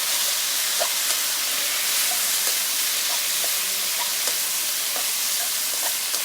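Taro (arbi) pieces lightly salted and frying with onion in a pan give a steady broadband sizzle, with occasional soft clicks of stirring and no talking.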